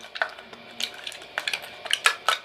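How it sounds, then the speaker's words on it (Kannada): A thin copper sheet being set over the mouth of a clay pot, giving a quick run of light metallic clinks and taps, some sharper than others, close and fairly quiet with no talking. "ತಾಮ್ರದ ತಗಡನ್ನು ತೆಗೆದುಕೊಳ್ಳಿ ಇದರ ಒಂದು ಬಾಯಿಗೆ ಮುಚ್ಚಿ"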